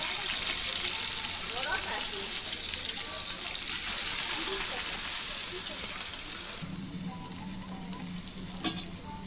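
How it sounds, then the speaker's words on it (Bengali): Lentil fritters (musur dal bora) dropped into hot oil, giving a steady broadband sizzle of deep frying throughout that brightens and thickens near the end, with faint background noise and no clear talk. "তেলটা গরম হয়ে গেছে, এবার আমরা আস্তে আস্তে ছেড়ে দিচ্ছি।"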